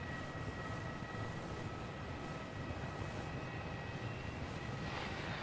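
Jetstar airliner on the inbound Sydney service landing on runway 09 at Melbourne Airport, a broad, steady jet roar heard from a distance, sustained throughout with no talk over it.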